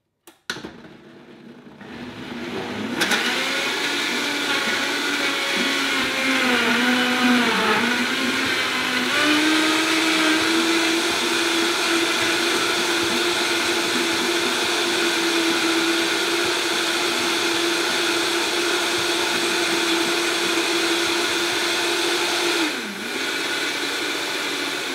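A blender whirs through a raw smoothie, starting with a few low chopping pulses, then ramping up to a loud, steady high-speed whine that holds for a long stretch, briefly dipping near the end, with no talking.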